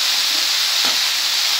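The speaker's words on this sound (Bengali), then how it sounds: "দেখুন এটা প্রায় ভাজা হয়ে এসছে, আমি এবার এটা নামিয়ে নেব, আর একটু ভেজে নিয়ে নামিয়ে নেব।" Bottle gourd peel and beans frying in a pan, a loud steady sizzle and hiss with a brief soft stir near the middle.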